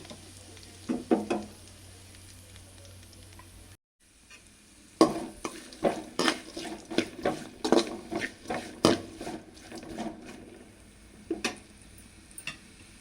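Onions, carrot and cucumber fry in a pan with curry leaves, faint sizzling broken by a brief pause, then a run of clinking spatula stirs against the pan at a steady pace.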